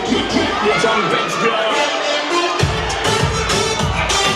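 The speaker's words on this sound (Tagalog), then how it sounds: "Nagkakagulo ang crowd, Liza!" At a wedding reception, a crowd of guests cheers, shouts and whoops in a dense, loud, continuous roar, with voices mixed in.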